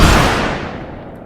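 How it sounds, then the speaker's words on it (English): A single loud gunshot sound effect bursts out in a song and then rolls away in a long, decaying boom. "when it hits the drum, the gunshot happens"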